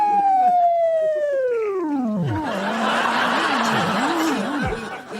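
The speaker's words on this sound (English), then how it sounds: "Put the siren on." A feeble vehicle siren gives one wail that sags in pitch and winds down over about two seconds, followed by a stretch of rough, wobbling noise.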